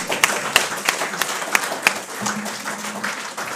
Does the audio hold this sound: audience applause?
yes